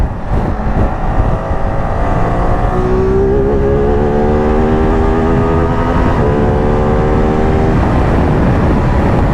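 A Ducati Multistrada V2S motorcycle accelerates on a road in traffic, its engine note climbing steadily in pitch through the gears under heavy, roaring wind noise.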